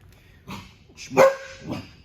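A fearful dog in bite work training gives three short, close barks in quick succession, the middle one loudest.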